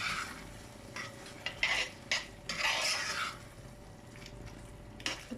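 Prawn curry being stirred in a pot, Durban style, a spoon scraping and clinking in short bursts through a low simmering sizzle.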